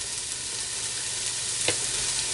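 Shredded carrot drops into already hot sesame oil in a pan, giving a steady, loud hiss of sizzling with one brief clack partway through, no voices.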